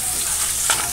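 Chicken thighs frying in their own fat in a pan, a steady close sizzle with one brief scrape of stirring near the end, no voices.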